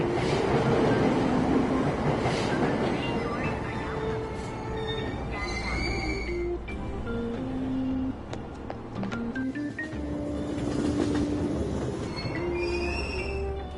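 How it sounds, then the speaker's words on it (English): Train from the video game Persona 5 Royal pulling away from a Tokyo subway platform, with a steady rumble of wheels, sustained squealing tones rising and falling, and faint clicks throughout, fairly loud and continuous. "Train doors are now closing. Please stand back."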